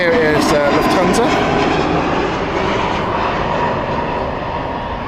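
A Lufthansa airliner takes off at Heathrow with a loud, sustained jet engine roar close by, slowly easing as it climbs away, while a voice talks briefly over it.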